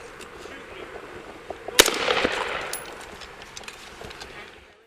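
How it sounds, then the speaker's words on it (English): A single sharp rifle shot from a police officer cracks out loud and close on body-camera audio, standing out above a noisy outdoor background with voices around it. "The officer fired one round from his rifle, striking Greco"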